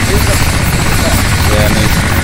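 A helicopter flies over the Namalsk map in DayZ, a loud, steady rotor chop and engine roar filling the whole moment up close.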